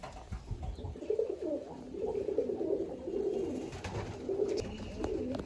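Pigeons in a loft near Baruipur coo steadily in overlapping low, rolling calls, with several birds close by and continuous throughout, no one speaking over them.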